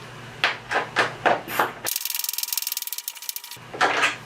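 Bolts are ratcheted tight on a work table, a fast run of even clicks lasting under two seconds, set between softer knocks and scrapes of parts being handled nearby.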